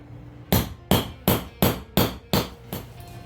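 Seven sharp hammer taps land on a wooden floor plank, striking a chisel at an even, steady pace, each ringing briefly before the next.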